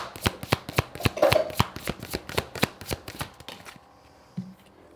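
A deck of tarot-style cards is shuffled by hand in a steady run of sharp, close snapping riffles that slow and fade out toward the end, with a soft thump after.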